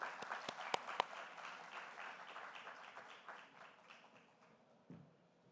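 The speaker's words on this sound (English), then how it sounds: "please give a warm round of applause for Miss Divya Dutta" Audience applause welcoming actress Divya Dutta at a film festival conversation session in Goa, a modest, fairly quiet patter of clapping that gradually thins and fades out.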